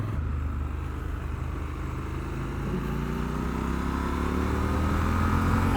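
A 2021 Triumph Scrambler 1200 XE motorcycle rides along at low throttle, a steady rumbling engine drone with rising tonal whine and road and wind noise, continuous and close throughout.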